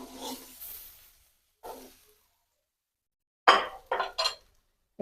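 Fried silver carp pieces are lifted out of a pan one at a time: short, separated bursts of utensil scraping and clinking against metal, with near-silent gaps between each lift.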